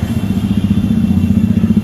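A parked motorbike idles close by near a market, its engine giving a steady, loud low throb with a fast regular pulsing beat that holds without pause.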